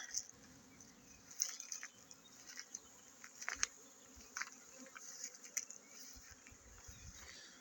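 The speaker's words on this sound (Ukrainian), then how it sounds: "І навіть затінку бджілки працюють дуже і дуже добре." Honey bees work at their hives in the shade during an acacia nectar flow, making a faint, steady buzz with scattered close wingbeats and ticks, and no voices.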